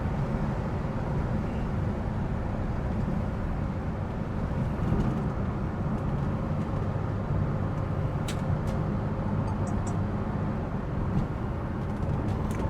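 A 1966 Chevy Corvair drives and accelerates, a low broad rumble of engine and road noise holding steady throughout with no voices.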